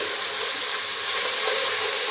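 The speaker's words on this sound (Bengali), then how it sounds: "একটু ফ্রাই করে নেবেন যেন কাঁচা গন্ধটা চলে যায়।" Ginger garlic paste fries with browned onions in a pan for bhuna khichuri, giving a steady, even sizzle that continues unbroken with no talking.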